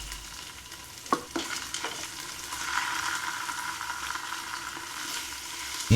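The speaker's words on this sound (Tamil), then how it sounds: "இஞ்சி பூண்டு பேஸ்ட்டோட பச்சை வாடை போகிற வரைக்கும் நல்லா வதக்கிக்கோங்க." Onions, green chillies and ginger garlic paste sizzle steadily in a hot pan, with a few sharp scraping stirs of a spatula near the start and a clatter at the end; no talking.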